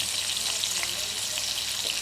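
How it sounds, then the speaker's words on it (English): Ribeye steak sizzles steadily in a hot pan, a dense continuous frying hiss with small crackles and pops throughout, close and fairly loud, with no voices. "I'm just gonna let the other side turn a little brown"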